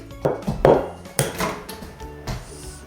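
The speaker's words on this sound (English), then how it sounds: "Crack the egg in here, baby." An egg cracked against the rim of a bowl in a home kitchen, a few sharp taps and knocks of shell on dish with faint clatter between them, no talking.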